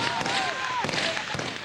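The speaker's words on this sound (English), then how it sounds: "And another volley of gunfire." A volley of gunfire at a front line in Iraq in April 2003, where Iraqi Kurdish forces are advancing: several sharp, separated shots crack over a constant noisy background.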